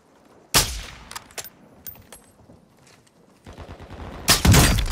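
Video game gunfire comes in sharp, loud bursts: an opening shot, several scattered single cracks, then a sustained rapid volley near the end, with quieter gaps between.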